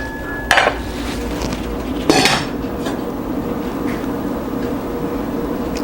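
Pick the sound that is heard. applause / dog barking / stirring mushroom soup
stirring mushroom soup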